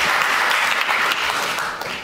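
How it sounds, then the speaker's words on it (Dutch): Continuous crowd clapping fills the room as guest Guus Hiddink arrives at the Operatie Interview show, a thick, even wash of hands that softens slightly toward the end. "Dankjewel voor het applaus."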